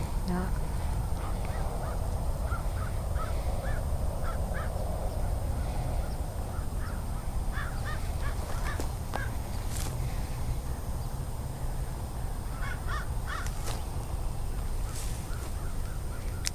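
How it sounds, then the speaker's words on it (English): Ducks fly in over an evening river walk, honking and quacking calls scattered in bursts over steady outdoor background noise, some near and some farther off. "Here's the ducks."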